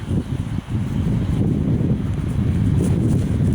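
Steady low rumbling cold winter wind buffeting the microphone outdoors, continuous and fairly loud throughout with no voices.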